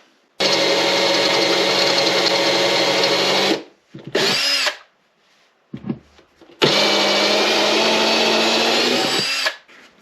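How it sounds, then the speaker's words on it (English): Small 5-degree reamer spun by a power tool to bevel the holes of a Takamine acoustic guitar bridge, two long steady whining runs with short bursts between them, loud and close. "This is a little 5-degree reamer. We're going to bevel the edge of these holes."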